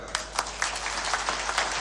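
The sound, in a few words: audience applause at a political speech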